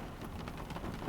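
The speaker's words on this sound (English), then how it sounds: "Apologize if you can hear the rain in the background." Steady rain pours outdoors on a gloomy day, a constant broadband hiss with faint scattered patter, holding at an even level throughout with no voices.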